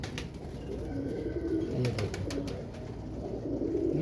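Colonel breed pigeons coo softly and steadily close by, with brief bursts of other bird calls and someone speaking briefly over them.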